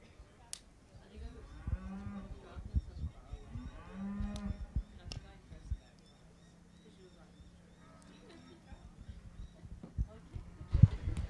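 Speckle Park cattle mooing in a show ring at a livestock show, several low drawn-out calls repeated in the first half, with faint hoof and crowd noise around them.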